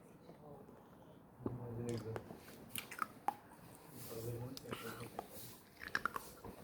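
Ice being crunched and chewed close to the mouth, with irregular sharp crunches scattered over soft mouth noises and quiet background, then a swallow.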